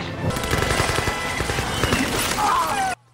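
Dense automatic gunfire from gunners springing an ambush in The League of Extraordinary Gentlemen film, loud and continuous rapid bursts layered over action sounds and music, cutting off abruptly near the end.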